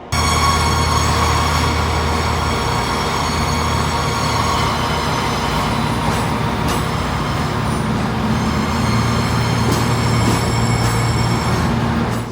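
Cross-country passenger train, unit 220001, running steadily throughout with a loud continuous rumble, rolling wheel noise and occasional high squeals, heard from on board.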